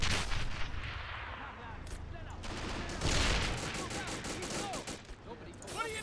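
Sustained battlefield gunfire with booming blasts in the World War II strategy game Men of War: Assault Squad 2, rolling continuously and loud with repeated sharp shots, and a voice talks over it.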